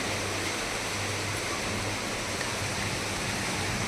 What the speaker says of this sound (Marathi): पाऊस बघा किती जोरात चालू झाला.